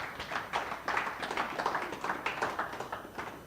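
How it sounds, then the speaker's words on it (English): Audience applause with scattered claps for the players at a nine-ball pool tour main event final, a dense patter of hands that swells and thins over a few seconds with no talk over it. "Give yourselves a round of applause."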